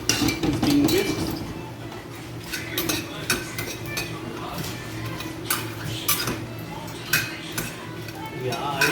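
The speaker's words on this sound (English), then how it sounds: "Intermittently we will also make sure that the onions and garlic paste and the ginger paste is being whisked." Utensil scrapes and clinks against a pan as onion, garlic and ginger paste is stirred with masalas for an Awadhi mutton dish, irregular metallic taps and scrapes up close with faint background noise.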